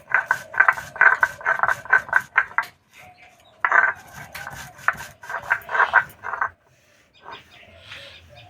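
Roasted spices ground to a powder for a crispy masoor dal fritter recipe, heard as bursts of rapid rattling whirr from a nearby grinder in several runs with short pauses, ending quieter.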